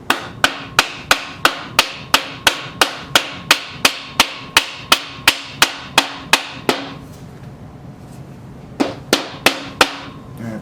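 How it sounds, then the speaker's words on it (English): Steel storage rack shelf being tapped down with a piece of 2x4 pine: a steady run of about twenty sharp, evenly spaced wooden knocks, a pause of quiet, then a few more knocks at the end. "And then I just kind of tap it down, and the way I'm tapping it, it should take both sides down evenly."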